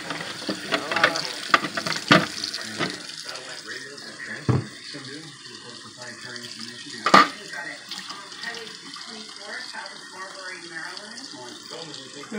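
Butternut squash fresh from a yard washed under a running kitchen tap, a steady hiss of flowing water with knocks and splashes as it is handled, while someone talks over it.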